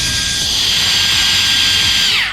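The motor of a 3D printed RC hovercraft running on a 25 amp Turnigy Plush speed controller screams at full throttle, a loud steady high-pitched whine that spools down abruptly at the end.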